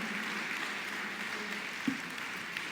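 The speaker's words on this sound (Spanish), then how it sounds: "denle un fuerte aplauso al Señor" A church congregation gives applause, a steady moderate clatter of many hands sustained throughout with a faint thump partway through.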